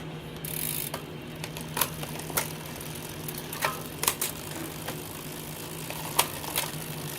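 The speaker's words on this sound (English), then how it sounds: "I have the front crank at the bigger gear, the chain rubs right here" On a bicycle with the front crank in the bigger gear, the chain rubs against the derailleur in a faint, steady mechanical whir with light intermittent ticks and clicks, heard close up without talk.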